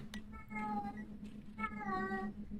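A cat lets out two drawn-out meows, the second longer and more plaintive, heard close over a steady low indoor hum.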